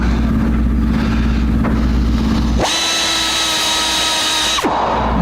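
A power tool deburrs steel parts for an axle stand, whirring steadily and loud up close, then shifting to a higher, thinner whine as the tool bears on the metal before cutting off.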